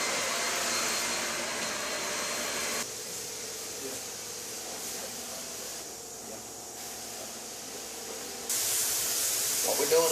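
A carpet cleaning machine extracts liquefied spots from carpet with a steady, loud broadband hiss and suction roar, dropping slightly quieter midway then surging louder near the end.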